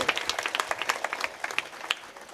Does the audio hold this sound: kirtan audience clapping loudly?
yes